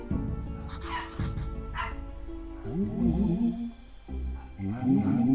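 Dogs in a video game bark and yip in repeated bursts, loud and close, with some whimpering mixed in over a steady game background.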